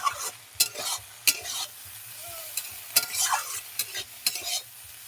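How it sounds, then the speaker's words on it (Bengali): Small pond shrimp frying in oil in a pan, with a soft continuous sizzle under irregular sharp scrapes and clacks of a spatula stirring them, close and fairly quiet. "চিংড়িগুলো সব তুলে নেব ভেজে নিয়েছি"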